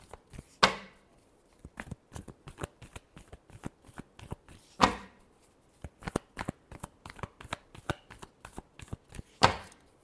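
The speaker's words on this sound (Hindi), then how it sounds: "last shuffle" Tarot cards are shuffled by hand close by. Quick riffling flutters and soft taps come in a brisk, uneven rhythm, with a few sharper bursts, and there is no talk.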